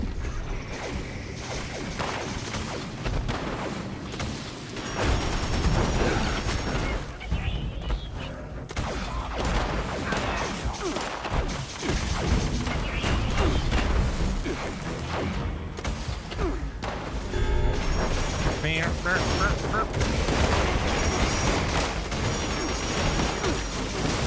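Cremator weapon blasts slam into aliens during a Fallout 76 alien invasion event, with dense, continuous booms, crashes and whooshes running throughout at steady loud intensity.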